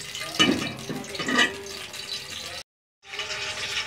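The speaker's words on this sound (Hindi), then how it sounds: "देगची जो है वो चूल्हे पे चढ़ा दी है, तो अब हम इसमें घी डालेंगे।" Ghee poured into a degchi cooking pot on a village stove, a liquid splashing and sizzling sound in two bursts, then a short silent gap and a steady sizzle.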